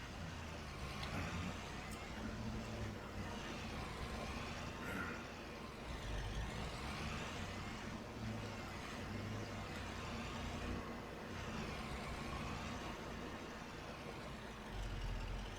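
A truck hauls a trailer of logs in Farming Simulator 25, a steady low engine drone with rattling and clunks running throughout at moderate volume.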